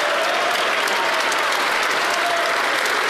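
Clapping from a person during a livestream, heard as a dense, steady wash of applause-like claps throughout, fairly loud and close, with no clear speech over it.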